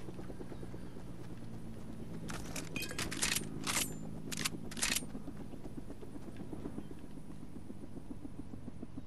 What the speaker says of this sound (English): Look at here, another helicopter.